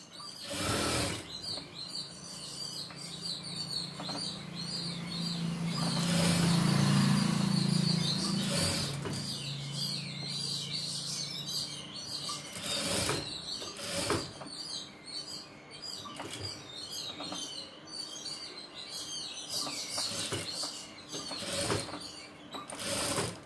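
A sewing machine stitches thread piping onto a blouse neckline, its motor humming and rising in a long steady run, with light mechanical clicks and small chirping squeaks around it, close and moderately quiet.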